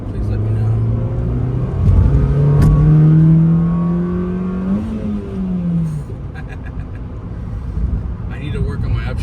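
A 2007–2008 Honda Fit Sport (GD3) with an Injen cold air intake accelerates hard, its engine note rising in pitch, dropping at an upshift and climbing again, close and loud, with a voice talking over it.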